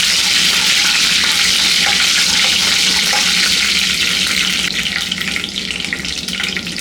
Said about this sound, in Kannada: ಈಗ ಇದನ್ನು ಚೆನ್ನಾಗಿ ಫ್ರೈ ಮಾಡ್ಕೊಳ್ಳೋಣ ಲೋ ಫ್ಲೇಮಲ್ಲಿ.